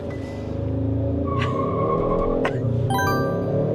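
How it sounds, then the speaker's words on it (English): A 2024 Hyundai Sonata makes a launch control start with traction control off, its engine revving high and steady while the tires briefly chirp in short wheel spin, close and loud, with a few faint dings and no talking. "That little bit of wheel spin"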